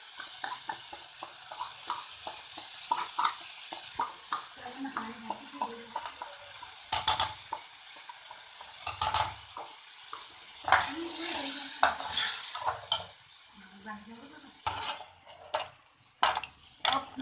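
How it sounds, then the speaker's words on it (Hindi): Ginger and garlic being fried with yogurt in a pan on the stove, with a spoon repeatedly stirring and scraping through the soft, steady sizzle and occasional clinks of the utensil against the metal. "अब हम इसको भून लेंगे ताकि इसका दही का पानी खुशक हो जाए"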